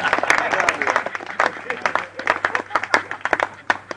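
An audience at a Hindi comic poetry recital bursts into scattered clapping, sharp individual claps rising and falling unevenly over a few seconds, with some voices in the crowd.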